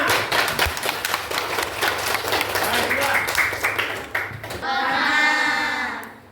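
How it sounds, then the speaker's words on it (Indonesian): A class of students in a lesson claps their hands together in a quick, rhythmic burst of many individual claps, then a voice speaks near the end. "Tepuk tangan dulu semuanya"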